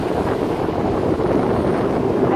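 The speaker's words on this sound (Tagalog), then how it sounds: "Hangin." Strong wind buffets across the deck of a U.S. Navy tanker in Subic, a loud continuous roar with no breaks or talk.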